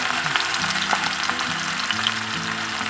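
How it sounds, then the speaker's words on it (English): Fennel seeds, onion and ginger garlic paste fry in hot oil for a mutton keema kozhambu, producing a dense, continuous close-up sizzle with light stirring clinks. "So the oil is hot now. Let's first add the fennel seeds, then the onion, then the ginger garlic paste"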